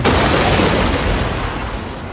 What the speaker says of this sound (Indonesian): begitu kotak tersebut dibuka, seketika terjadi ledakan besar